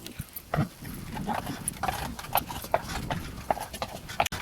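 Heavy Belgian draft horse hooves clip-clopping at a slow walking pace while pulling a carriage, a series of distinct hoof strikes close by on a hard surface.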